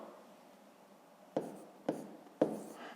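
Numbers being handwritten during a math exercise, three short distinct pen scratches spaced about half a second apart, faint and close with no talking.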